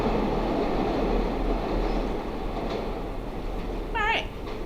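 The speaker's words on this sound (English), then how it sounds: "We're going to pause for the train." A train rumbles past steadily, a broad continuous roar with a brief high metallic squeal near the end.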